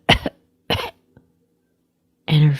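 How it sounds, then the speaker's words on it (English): A person gives two short, sharp coughs close up, then after a pause a louder, rougher throat-clearing cough, with near silence between them. "coughed a bit"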